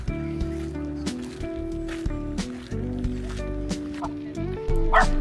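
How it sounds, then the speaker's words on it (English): Dogs at a large dog-walk meetup in Amsterdam's Vondel Park make barks, yips and whimpers against a steady musical backing, with several sharp yelps close by. "We happened across a dog walk meetup, and there were like 30 to 40 dogs"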